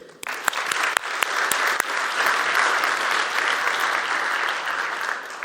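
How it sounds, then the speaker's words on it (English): An award ceremony audience applauds a nominee: a few sharp individual claps first, then a steady, fairly loud mass of clapping that continues evenly and fades only slightly near the end. "another applause for him"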